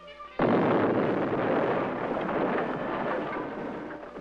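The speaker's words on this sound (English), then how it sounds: "The charge is detonated." A demolition charge goes off in a training exercise with cardboard figures standing in for Viet Cong, one sudden loud blast followed by a long rumbling roar that slowly fades, with no voices.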